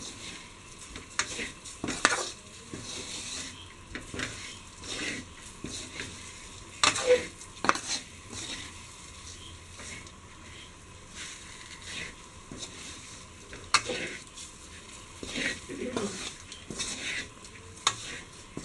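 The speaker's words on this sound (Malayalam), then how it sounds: "ഇത് നന്നായിട്ട് ഇളക്കി ഈ അരപ്പൊക്കെ മുട്ടയിൽ ഗ്രേവിയൊക്കെ പിടിക്കാൻ വേണ്ടിയിട്ട് നന്നായിട്ടൊന്ന് ഇളക്കി കൊടുക്കും." Egg masala gravy for Kerala-style egg biryani stirred in a pan, with scattered scraping spoon strokes and soft clinks against the metal over a faint low sizzle, fairly quiet and close.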